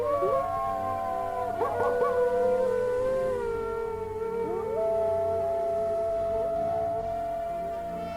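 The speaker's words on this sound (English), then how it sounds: "Loud wolf howls incoming." Several wolves in the Quest for Glory 4 video game howl together, long sliding tones overlapping and rising and falling, sustained and fairly loud for several seconds with no talking.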